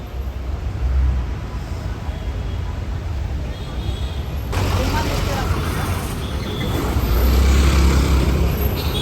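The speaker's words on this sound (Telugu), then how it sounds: "హెవీగా ట్రాఫిక్ జాము." A heavily jammed road in flooded Hyderabad produces a loud, steady roar of car and bus engines with a continuous low rumble that swells slightly toward the end.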